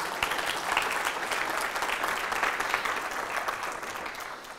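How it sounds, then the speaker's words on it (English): A conference keynote audience claps after a successful live demo: dense, sustained applause from a crowd, fairly close and loud, fading slightly toward the end. "I like that you clapped that the demo was a success"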